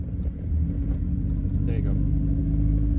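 A car with a manual stick shift rumbles along slowly in second gear, a steady low engine drone from inside the cabin, with a voice talking over it.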